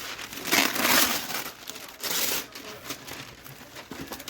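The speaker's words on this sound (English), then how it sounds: "you know I'm going to use parchment paper." Parchment paper being crinkled and handled in a kitchen, crisp crackling rustles close up, with bursts of louder crumpling separated by softer handling.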